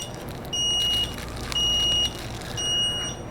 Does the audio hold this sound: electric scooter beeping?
yes